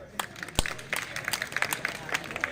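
Scattered clapping from a seated crowd at a large community social gathering, uneven bursts of claps with a background murmur and some talk over it.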